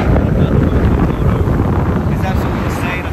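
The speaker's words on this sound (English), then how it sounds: "It's incredibly windy here on the beach today." Strong wind on an Outer Banks beach roars and buffets the microphone continuously, a dense low rumble of gusts at close range.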